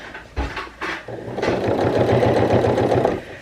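A sewing machine runs steadily, stitching through thick denim with a fast, even mechanical chatter after a few brief knocks at the start.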